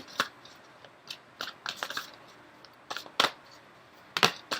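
Crisp papery riffles and snaps of tarot cards being shuffled, coming in short irregular bursts with quiet gaps between, close by and fairly soft.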